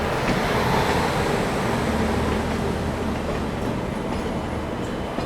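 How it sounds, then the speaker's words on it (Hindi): A Hyderabad–Nizamuddin Dakshin Express passes on an Indian railway line, giving a steady, loud broadband rumble of rolling wagons that holds unbroken for the whole stretch with no talk over it. "हैदराबाद निज़ामुद्दीन दक्षिण एक्सप्रेस।"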